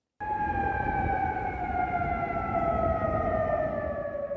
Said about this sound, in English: Those sirens heard across Kuwait City